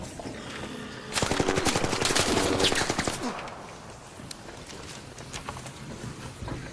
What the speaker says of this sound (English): The fuck's shooting at us?